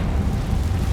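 A loud, dense blast from a Confringo spell going off in a Harry Potter video game, a steady roaring burst that fills the whole second.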